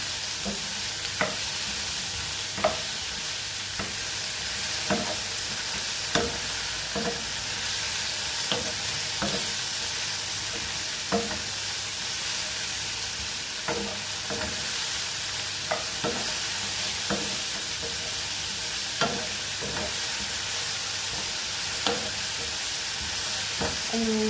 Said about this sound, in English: So I'm just stirring the mushrooms